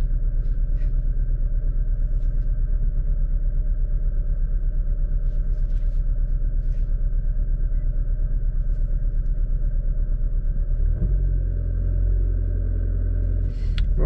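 A 2008 Dodge Avenger with a power issue runs steadily, a low continuous engine rumble heard from inside the car, with a slight shift in tone near the end.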